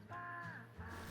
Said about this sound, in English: it's a woodland kingfisher going about here